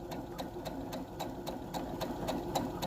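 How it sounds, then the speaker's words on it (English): An Se 600 sewing machine runs steadily at close range, its needle stitching in a quick, even rhythm of regular clicks over a continuous motor hum. "in order to get this stitch in, you got to press the presser foot"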